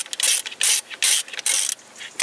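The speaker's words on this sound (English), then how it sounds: "there is my 10 millimeter socket, and there is my tool" A ratchet with a 10 millimeter socket clicks in quick bursts of rapid ticking, close and clear, while loosening a fuel injection line bolt during clutch work on a Toyota Corolla.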